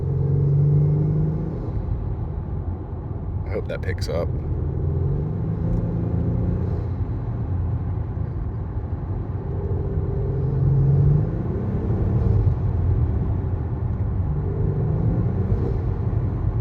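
Steady engine rumble from a 2022 Acura MDX Type S fitted with a K&N aftermarket intake filter, a continuous low drone heard from inside the car, with a brief sharper burst partway through and a short spoken line near the end.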